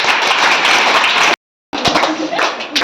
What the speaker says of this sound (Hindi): बच्चों इसीलिए ताली बजाओ